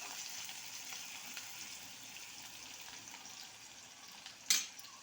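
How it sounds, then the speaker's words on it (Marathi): Two medium chopped onions fry in a pan for a potato curry, a steady close sizzle running throughout, with a brief sharp clatter near the end and no talking. "कांदा बारीक मऊ होजेपर्यंत इथं फ्राय करून घ्यायचं आहे।"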